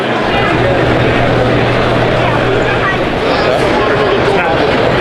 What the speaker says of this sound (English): Engine's not warmed up.